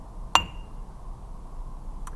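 One crisp mallet strike on a bell set with a short ringing tail, then near silence until a faint second tap at the very end.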